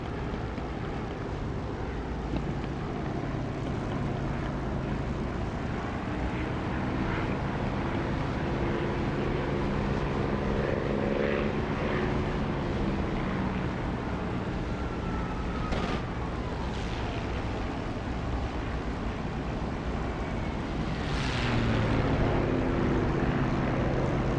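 A propeller warplane in the DCS flight simulator drones steadily with flaps down, canopy open and the prop set to fully fine, a continuous engine roar with wind rush and slight shifts in pitch.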